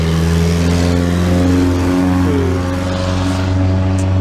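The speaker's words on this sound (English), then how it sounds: "That's a bad car sound." A car in town makes a rough, unhealthy engine noise, a loud, close, steady droning hum with strong low tones that barely changes over a few seconds.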